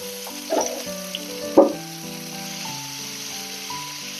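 Chopped onion with red and yellow bell peppers fry in a pan, giving a close, soft sizzle, with a couple of brief clatters near the start.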